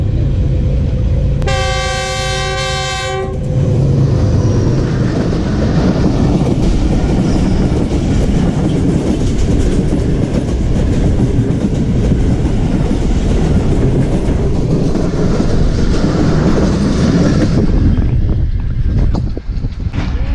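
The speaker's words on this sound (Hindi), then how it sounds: "ये हमारी ट्रेन वजीराबाद जंक्शन पर पहुंच चुकी है।" The Awam Express passenger train runs loudly on the rails with steady rumble and clatter, opening with a brief horn blast near the start, heard from on board.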